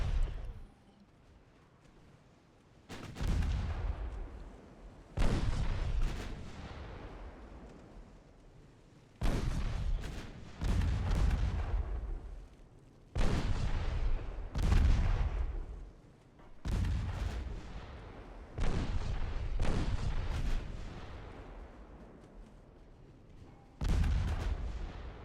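Heavy naval guns boom in the warship game Ultimate Admiral Dreadnoughts, about a dozen deep blasts at uneven gaps, each one rolling out into a long fading rumble.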